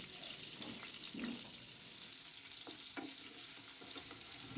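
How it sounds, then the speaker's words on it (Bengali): Quartered potato pieces fry in oil with a faint, even hiss and a few soft ticks and pops, heard quietly and without talk. "এক একটাকে চার টুকরো করে ভেজে নিচ্ছি"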